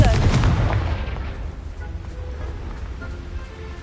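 A Confringo fire spell from the Hogwarts Legacy video game bursts with a loud explosive boom at the start, then a rumbling, crackling tail that slowly fades over a few seconds.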